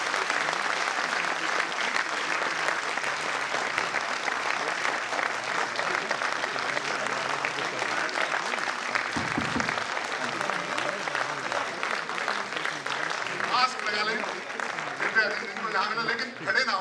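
Sustained audience applause at a lecture on swine flu and diabetes in India, a dense steady wash of clapping filling the whole stretch at even loudness.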